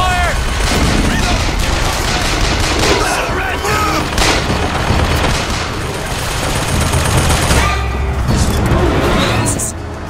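Sustained gunfire rattles through a fight in the video game BioShock Infinite, a loud, continuous volley of shots and impacts with voices shouting over it.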